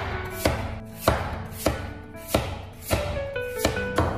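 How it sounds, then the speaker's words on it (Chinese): A knife slices a peeled potato into thin slices on a cutting board, about eight crisp, evenly spaced chops close up with no talk. "外皮削好之后再将土豆切成薄片"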